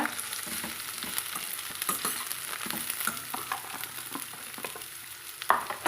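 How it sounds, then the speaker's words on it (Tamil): Chopped vegetables sautéing in oil for vegetable noodles, with a steady close sizzle and repeated scraping stirs of a spatula in the pan, a sharper clatter near the end, no voices. "இப்போ அரிஞ்சு வச்சுக்கிற காய் எல்லாத்தையும் போட்டுக்கலாங்க"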